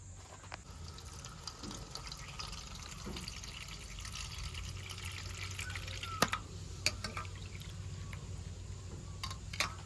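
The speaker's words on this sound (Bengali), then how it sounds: "এবার চিংড়ি মাছগুলো ধুয়ে নেব।" Prawns are washed under running water from a tap, a steady close splash and trickle with occasional drips and clinks throughout, no speech.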